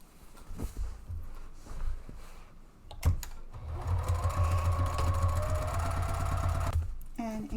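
A sewing machine runs a continuous stretch of stitching along the side seam of a fabric picnic bag. Its rapid mechanical whir comes close and steady after a few clicks and handling noises, and a voice talks over it.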